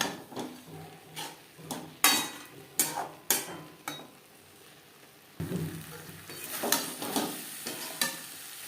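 Cauliflower stem chorchori cooks in a pan over high to medium flame with a ground mustard, peanut and milk paste, giving a steady sizzle broken by repeated loud scrapes and clanks of a spatula stirring against the pan.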